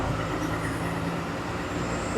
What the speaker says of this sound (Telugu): అది పైన మెట్రో